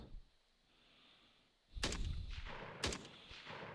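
An assault rifle fires at a shooting dummy in an Unreal Engine FPS game, a sharp, loud shot followed by a second shot about a second later, after a quiet low rumble.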